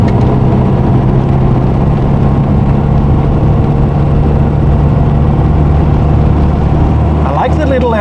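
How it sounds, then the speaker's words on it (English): A 1979 Reliant Super Robin three-wheeler with its small 850 cc engine, around 45 horsepower, drones steadily and loudly throughout while driving, a constant low mechanical hum with no pauses. "I like the little engine. It's an 850."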